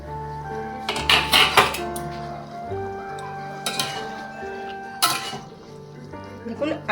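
A metal lid comes off a pot of simmering ghugni with sharp clanks and rattles. Quieter kitchen clinks and a voice talking follow.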